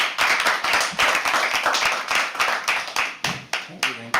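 An open-mic poetry audience at The Habitat claps as a poet comes on stage, the dense, close clapping punctuated by sharp individual hand strikes, with voices talking over it.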